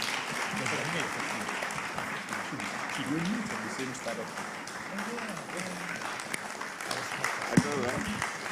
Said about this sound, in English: Ladies and gentlemen, please put your hands together for L.E.A.D.